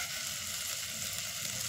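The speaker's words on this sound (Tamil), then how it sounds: "எல்லாம் நல்லா வதங்கிடுச்சு." Ingredients for thuvaiyal chutney frying in a pan give off a continuous, even sizzle close by, with no voices.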